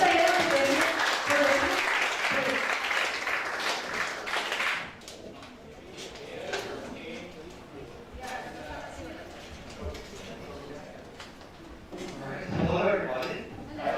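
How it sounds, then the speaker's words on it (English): Audience applause at a public lecture on critical media studies, a dense burst of clapping for the first few seconds that fades into scattered claps and room noise, swelling again briefly near the end. "Kita kasih applause yang luar biasa ya, David."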